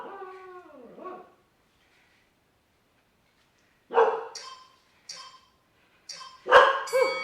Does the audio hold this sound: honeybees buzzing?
no